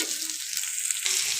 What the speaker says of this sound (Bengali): আলুটা আর ফুলকপিটা একটু খুব ভালো করে আবার ভেজে নেব।